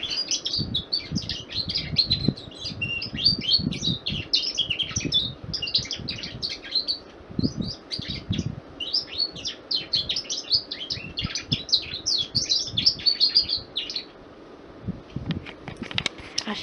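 A pet bird chirps and tweets excitedly with rapid, continuous calls beside a running electric fan, the bright chatter steady and close over a low hum, with occasional soft handling thumps.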